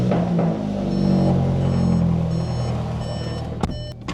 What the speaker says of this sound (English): This fuel pump is so loud, man.